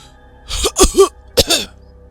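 A man coughs and clears his throat in two short bursts, a quick pair of harsh hacks followed by one more rasping cough, close and dry, with no talk.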